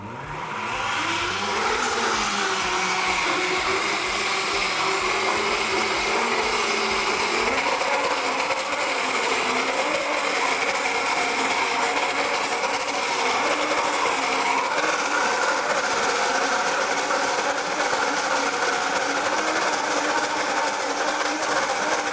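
A Blendtec blender motor held at full speed, a steady loud whirring drone that climbs in pitch over the first seconds and then runs continuously without pause.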